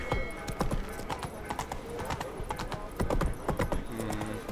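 Horse hooves clip-clopping at a steady trot while riding in The Witcher 3, close and rhythmic, with a brief snort or whinny near the end.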